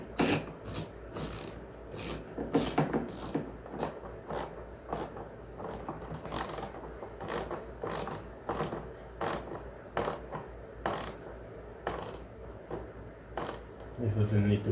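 A hand ratchet tightens an 8 mm bolt on the oil filter housing of a 2011–2016 Chrysler Town & Country, making repeated bursts of rapid clicking with short pauses between strokes, heard up close, with some talking in places.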